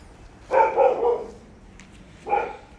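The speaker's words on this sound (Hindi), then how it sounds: "कुत्ता वगैरह भौंक रहा है।" A dog barks outside, a burst of several quick barks followed after a pause by one more bark, moderately loud and a little distant, with no talk over it.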